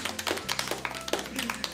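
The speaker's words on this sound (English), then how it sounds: "Give yourselves a round of applause." A small group claps loosely in a school broadcast setting as a student announcement team is introduced; the handclaps come as scattered, uneven bursts at moderate volume for under two seconds.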